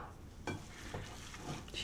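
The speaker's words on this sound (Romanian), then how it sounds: "Și continuăm să amestecăm." A spoon stirs meatball mixture of ground meat and a little olive oil in a bowl, making soft, wet, squelching scrapes with a few sharper knocks against the bowl, close and moderately quiet.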